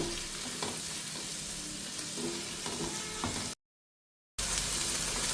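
Chicken sizzles and fries in butter and oil in a pan, a steady close crackle that drops out briefly before resuming.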